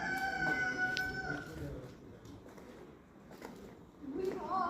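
A rooster-like crow rings out near the start, followed by scattered clucks and calls from foreign birds and pigeons at a wildlife park in Bogura, over steady outdoor background noise.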